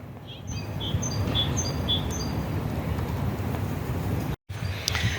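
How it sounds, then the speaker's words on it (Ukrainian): A small bird sings a few bright, high chirps and whistles over a steady low rumble of outdoor noise, with a brief dropout near the end. "Ну, чуєте, як пташка співає,"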